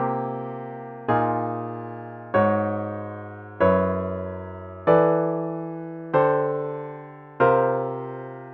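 Sustained dominant seventh suspended-fourth chords, seven in a row, each struck with a sharp attack and left to decay, stepping down by whole tones in an even, unhurried rhythm with no voices.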